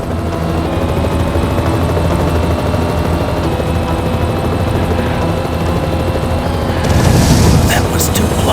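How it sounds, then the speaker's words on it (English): An armed helicopter in the Knight Rider 2 video game thunders with a loud, continuous rotor drone, and a sudden burst of explosion-like noise near the end. "Michael, that helicopter is heavily armed."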